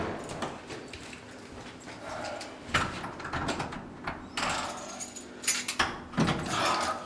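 Keys jangling and rattling at a door in short irregular bursts, with metallic clinks and handling knocks between quieter pauses, close and fairly faint, no talking.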